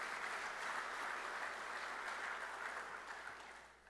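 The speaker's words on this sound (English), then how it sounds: "give them a round of applause" A crowd claps steadily at a labor speech event, a faint and slightly distant wash of applause that gradually fades over a few seconds.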